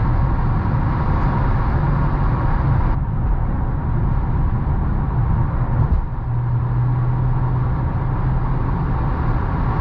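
A 2015 Mercedes-Benz S550 cruising at highway speed, a steady broadband hum of tire roar and wind with a low engine drone, loud and continuous from inside the cabin, with no talk.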